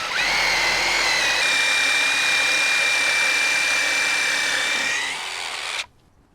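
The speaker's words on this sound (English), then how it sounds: "Drill a hole." A loud, steady power drill with a masonry bit whines continuously for about five seconds while drilling a hole, dips slightly in pitch near the end, then cuts off abruptly into silence.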